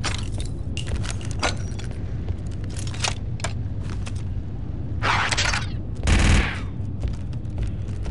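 Heavy repeater gunfire from an LS-150 heavy ACP repeater in Star Wars Republic Commando crackles in scattered bursts over a low rumbling battle bed, with the loudest, densest volley near the end and no talking.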